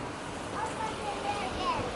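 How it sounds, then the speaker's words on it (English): Broadband rushing water from a swollen, flooding river during rain, a steady near roar with gusty surges and no clear breaks. "Look at this river. That's insane."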